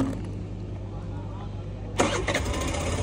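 A Suzuki Burgman 125 scooter engine with a starting problem, cranking and catching about two-thirds of the way in, then running unevenly. A steady low hum runs underneath, and nearby talk carries on throughout.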